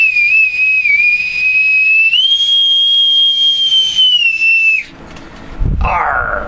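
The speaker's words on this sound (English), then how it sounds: "Let me pipe them aboard with the bosun's whistle." A bosun's whistle is blown in a long, steady shrill note that rises in pitch partway through, then breaks off, followed by a brief noisy rushing burst.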